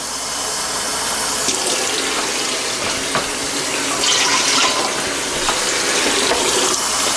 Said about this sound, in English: We'll put 6 cup of water.